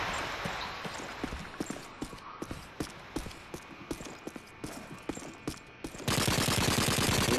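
Rapid automatic gunfire in Call of Duty 2 multiplayer, a steady stream of sharp close shots that swells into a denser, louder burst near the end.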